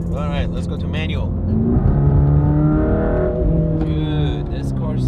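Mercedes-AMG GT Black Series, around 720 horsepower, accelerating hard through gears, engine note rising and shifting loud and close from inside the car, with a voice speaking briefly at the start and end.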